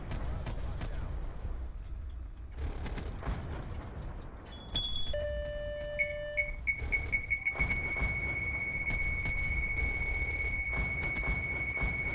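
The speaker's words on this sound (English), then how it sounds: "Dude, I hate this beeping noise," Steady high-pitched electronic beeping repeats in a rapid even rhythm during a Call of Duty Black Ops 4 multiplayer match, over game noise, with a player talking.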